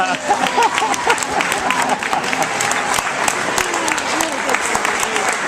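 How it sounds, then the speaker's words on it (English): A crowd applauds steadily and loudly, dense clapping filling the room with a murmur of voices and a few cheers underneath. "If you weren't standing to give him a round of applause, you ought to be"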